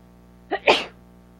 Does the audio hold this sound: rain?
no